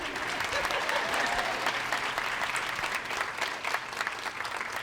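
An audience claps during a State of the District address, steady dense applause filling the room from start to finish with faint voices underneath.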